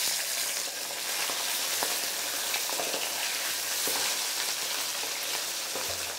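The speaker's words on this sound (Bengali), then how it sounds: "এবার এখানে আমি একে একে মাছের মাথাগুলোকে ভেজে নিচ্ছি।" Katla fish heads fry in hot oil for a fish-head chhyachra, with a loud, dense, continuous sizzle and crackle close up, broken by a few faint clicks and no voices.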